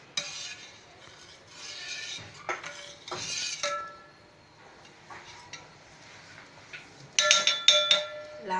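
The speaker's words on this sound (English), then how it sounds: "Gently stir" A spoon stirs buttermilk rasam in a metal pot with bright, ringing clinks and scrapes in short bursts, quiet gaps between them and a denser clattering run at the end.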